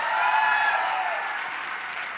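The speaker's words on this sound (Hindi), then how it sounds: "कंपनी के रचयिता डॉक्टर संजीव कुमार सर के लिए एक बार जोरदार तालियां।" An audience at a business motivational event claps enthusiastically in a dense, steady round of applause that gradually softens.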